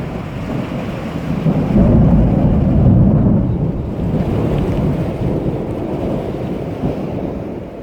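Storm Kira rumbles as a continuous thunderstorm, a loud low roar of thunder with wind and rain that swells and eases without a break.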